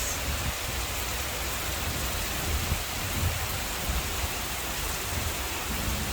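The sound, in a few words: heavy rain pouring down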